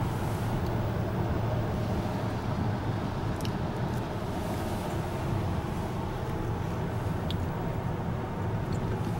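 Steady interior road noise from a 1993 Lincoln luxury car driving, a constant low rumble and hiss with no talk, unchanging throughout.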